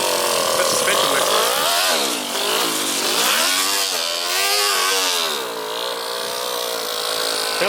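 A 4-stroke nitro engine in a 5-speed RC crawler revs hard and loud, its buzzing whine sweeping up and down in pitch over several throttle blips, heard close up.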